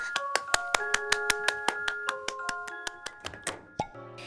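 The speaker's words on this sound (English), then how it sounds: "give them a big applause" Crisp, evenly spaced claps ring out in a steady beat, close and clean, slowing and thinning near the end as a musical tone enters, in a children's English storytime reading of Beauty and the Beast.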